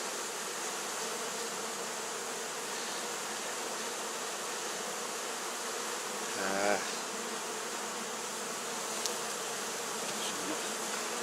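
A steady, dense buzz of honey bees from a moved swarm near a top bar hive fills the scene throughout, with a brief louder burst partway through from something close by.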